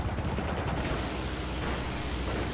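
Dense, continuous gunfire from the video game Battlefield 4, a loud unbroken wash of rapid shots and blasts with no pauses.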